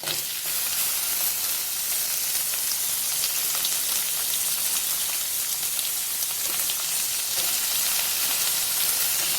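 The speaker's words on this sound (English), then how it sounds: "Now add onions into it." Onions sizzling in a hot pan for a homemade cauliflower fry, a steady, dense frying hiss that holds evenly throughout with no talking.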